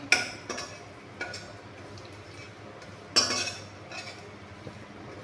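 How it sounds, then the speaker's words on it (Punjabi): Poppy seeds roasting in ghee in a pan for atta barfi, with scattered metallic clinks and scrapes of a spoon against the pan over a faint sizzle, close by with no talk. "ਹੁਣ ਇਹਨੂੰ ਆਪਾਂ ਥੋੜਾ ਜਿਹਾ ਖਸਖਸ ਨੂੰ ਘਿਓ 'ਚ ਭੁੰਨ ਲਾਂਗੇ"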